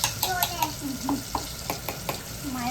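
Ground masala paste for a homemade mutton potato curry sizzling and being stirred in a hot pan, with a steady frying hiss and repeated spoon scrapes, and a voice faintly underneath.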